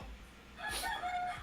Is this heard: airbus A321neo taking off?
no